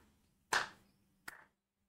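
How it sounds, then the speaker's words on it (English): Two slow hand claps, sharp and close, spaced under a second apart, the second softer, with quiet surrounding them. "Slow clap."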